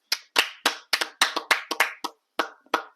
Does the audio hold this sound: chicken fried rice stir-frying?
no